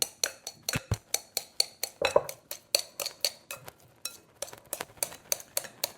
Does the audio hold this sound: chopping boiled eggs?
yes